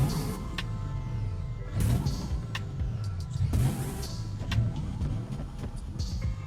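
A synthetic, engine-like hum from a Porsche Taycan electric car's artificial engine sound rises and falls in pitch as the car moves along, steady and moderately quiet with a few light clicks.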